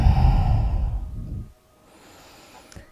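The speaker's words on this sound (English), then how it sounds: "Take one more breath here." A deep, breathy exhale during a yoga pose, loud and close at first, then fading away into near silence after about a second and a half, with a faint catch of breath near the end.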